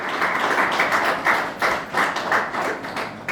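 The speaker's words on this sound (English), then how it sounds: "I think a round of applause is in order." An audience claps at a mental health awareness event, a steady burst of close, loud applause with uneven pulses of hand claps and no talking over it.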